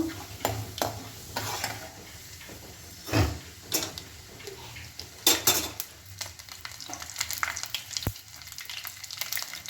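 Chana dal frying in oil in a pan for uppittu makes a soft sizzle, broken by repeated scraping stirs and clinks of a spoon against the pan.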